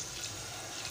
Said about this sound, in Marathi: पाणी घालत आहे।